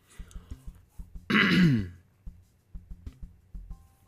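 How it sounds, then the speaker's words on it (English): One loud, rasping throat clear sits right next to the microphone, standing out against quieter soft tapping before and after. "that probably sounds really loud when I clear my throat right next to my microphone"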